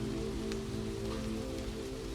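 Steady rain falls on surfaces on a New York City night, an even, dense hiss with scattered drip ticks, close and unbroken.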